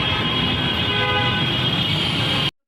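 Busy street traffic in Delhi with vehicle horns, a dense, steady roar of passing vehicles and a sustained horn tone, loud and continuous, cutting off abruptly at the end.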